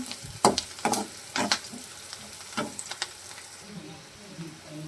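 Large onion pieces frying with a little salt in a pan, heard close as a low sizzle broken by a string of sharp, irregular spatula scrapes and clacks against the pan.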